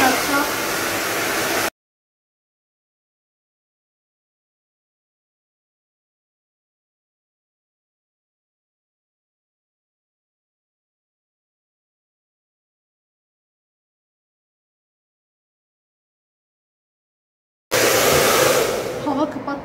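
A hair dryer blows hair for an at-home Brazilian blowout with keratin treatment, loud airy roaring in two short bursts at the start and end, separated by a long silence, with a voice speaking.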